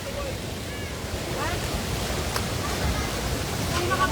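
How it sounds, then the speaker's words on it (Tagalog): A constant rushing of floodwater from an overflowing river pouring over a road in Ambuklao, fills the clip, broad and steady like a torrent, with faint voices barely audible underneath. "Daanan na ng tubig tong kalsada."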